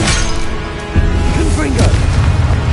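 An explosive spell goes off in a Hogwarts Legacy duel: a sudden booming impact about a second in, followed by shattering crackle and rumbling aftermath, loud and close, with voices shouting during the fight.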